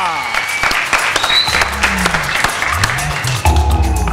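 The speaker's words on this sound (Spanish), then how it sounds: "Aplausos para Rebeca" A studio audience applauds at a Spanish-language TV show, steady clapping filling the whole stretch, with music and the host's voice breaking in underneath.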